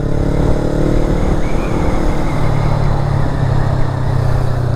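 A motorcycle engine and exhaust hum steadily and loudly on the Col du Tauly mountain pass in the Vosges, a constant close drone with no pauses.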